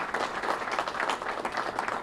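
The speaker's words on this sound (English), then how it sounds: "So how about a round of applause for the governor?" Audience applause for the governor at the opening of a new gate at Redstone Arsenal, a steady wash of clapping from a crowd, moderately distant and unbroken, with no speech.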